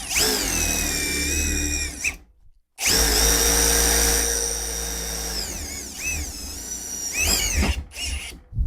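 A Procraft Industrial ID20A impact driver whirs loudly in two long bursts separated by a brief pause, its high motor whine rising and falling as a one-centimetre self-tapping screw bites into thin sheet metal about 0.8 mm thick.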